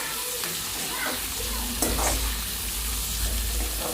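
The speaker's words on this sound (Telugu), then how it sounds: "చూడండి ఆనియన్స్ అయితే ఇలా వేగిపోయాయి" Sliced onions fry with coriander seeds and cumin in a pan, giving a steady, moderate sizzle broken by occasional scrapes of a spoon stirring them. No one speaks.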